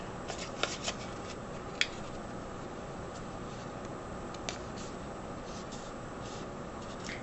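Paper flaps being folded and glued down by hand, faint intermittent papery creases and light taps over a steady background hiss, with a few sharper clicks.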